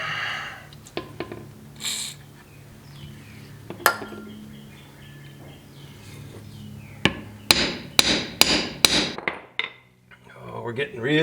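Metal hammer strikes ring out on a junkyard truck rear axle part from a 1970 C10, a few scattered blows and then a quick cluster of sharp, loud clanks, with quiet shop ambience between.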